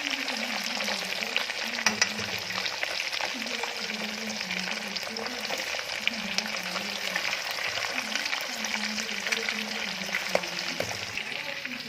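Pieces of fish sizzle steadily in hot oil, a dense continuous crackle and spatter with occasional sharper pops, close and fairly loud throughout.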